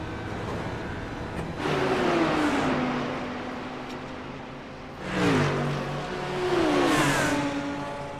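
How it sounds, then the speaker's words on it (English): Race car engines in the iRacing sim at Mount Panorama, BMW machinery climbing the mountainside: a steady engine drone swells as two cars rev and pass in close succession, their pitch rising and falling through gear changes. "Take a ride on board Dan Castro as we fight through the mountainside against Michael Rodriguez"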